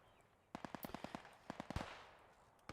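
An MG34 machine gun fires in Post Scriptum in rapid, sharp bursts, first one burst and then a second after a brief pause, with loud cracks that echo and trail off.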